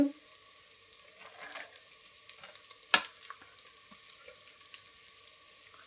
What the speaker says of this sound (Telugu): ఒక్క నిమిషం ఇలా వేగనిచ్చి